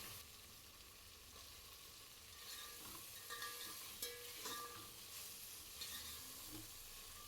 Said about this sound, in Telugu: అల్లం వెల్లుల్లి పచ్చివాసన పోయేంత వరకు వేయించుకోవాలి